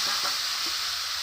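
Spice paste and boiled vegetables sizzle steadily in a pan for a Bengali shukto, with soft scraping stirs over the constant hiss of frying.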